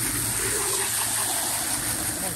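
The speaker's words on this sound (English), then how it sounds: "Let the water roll down here." Water rinsing dirt out of EF Hatchback car floor mats by hand, a continuous close gushing and splashing that stays loud and steady throughout.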